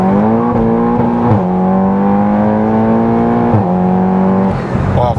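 Stage 3 Cupra with a stock-block four-cylinder engine making 542 hp accelerates hard, its engine note climbing through the gears with short dips at each shift, loud and close throughout.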